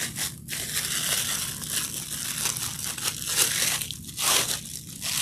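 Deco mesh for a wreath being cut in steady runs of crunchy, crinkling snips and tearing, close and fairly loud, with brief pauses between passes.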